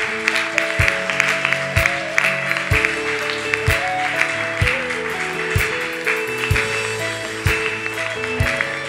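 A church congregation applauding and cheering in welcome of the Holy Spirit at a Sunday service, with loud rhythmic clapping over sustained music and tones, and sharp low beats recurring about once a second.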